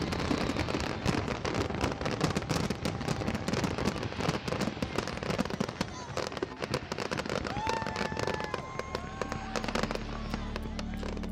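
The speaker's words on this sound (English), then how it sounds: "all the fireworks went off in the span of about 30 seconds" A full fireworks display with every shell going off within about thirty seconds at a beach, a dense continuous barrage of bangs and crackles with whistling shells rising near the end, loud and unbroken.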